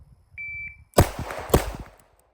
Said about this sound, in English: Maybe if I remember to turn the timer on.